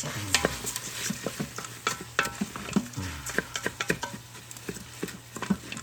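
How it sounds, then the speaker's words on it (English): Rice being stirred into olive oil and butter in a pot for Southern chicken perlo: repeated sharp scraping and tapping strokes of the spoon over a low sizzle, close and rhythmic. "I'm going to work it around into some of that olive oil and butter"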